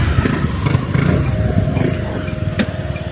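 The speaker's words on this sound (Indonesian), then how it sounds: "Ada motor juga." A motorcycle rumbles past on a cold street in Chuncheon, South Korea, its engine drone fairly close and steady before fading, with a brief sharp click near the end.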